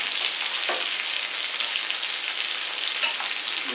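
Fish fried in oil in a pan, a steady dense sizzle throughout, with a couple of brief louder crackles as pieces are turned over.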